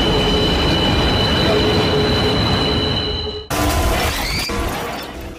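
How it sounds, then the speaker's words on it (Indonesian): A train rushes past with a dense, loud roar and high wheel squeal that cuts abruptly midway and resumes with clattering, metallic scraping, from an anime scene of a train striking people. "keduanya pun berakhir dengan ditabrak kereta api"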